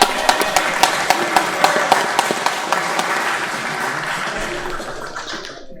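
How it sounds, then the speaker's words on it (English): At a live fight event, a crowd applauds with sharp, prominent claps near the start that thin out and fade toward the end. "Clap it up."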